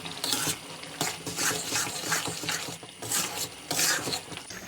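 Peshawari charsi beef tikka karahi with green chillies, cooked without oil, is stir-fried in a pan: rhythmic, fairly quiet scraping and sizzling strokes repeat about every half second to second.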